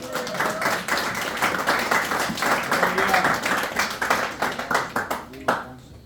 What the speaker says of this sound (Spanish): ¿Cuándo damos un fuerte aplauso al Señor